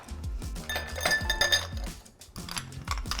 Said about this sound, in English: So I'm gonna ice my shaker